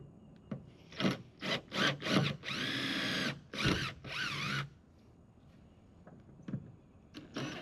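A drill boring a larger hole for a Minn Kota Terrova trolling motor mount, heard as several short close bursts of whirring and grinding followed by one longer sustained run, then quiet.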